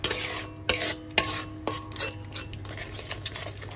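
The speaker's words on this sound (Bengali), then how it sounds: "সর্ষেটা একটু মশলার সাথে মিশিয়ে নেব।" Mustard paste being stirred into spices in a pan while cooking a Bengali tilapia fish jhal, heard as a few sharp metallic spoon knocks against the pan and softer scraping, close and fairly quiet.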